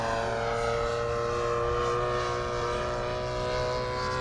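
A Hangar 9 P-47 RC model plane with a 20cc gas engine flies overhead, its propeller whine a steady, tonal drone that stays loud and even throughout.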